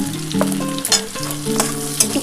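A spice paste of Kashmiri chilli powder, cumin powder, salt and turmeric hits fried onions in a pan for rui fish kalia, giving a close, steady sizzle with light stirring scrapes.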